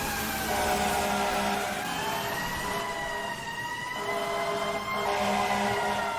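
An older-model mechanical Q fire truck siren in the video game EmergeNYC wails in rising and falling sweeps, loud and continuous over low engine rumble.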